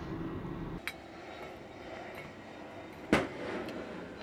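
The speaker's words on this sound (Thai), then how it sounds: "ก็สิมีเสียงเครื่องบินในเด้อจักหน่อยพี่น้องก็ขอโทษขออภัยนำเด้อถ้าเสียงดังก็ได้" An airplane passes overhead during outdoor cooking, a broad steady engine roar filling the background, with a couple of sharp knocks from the cooking.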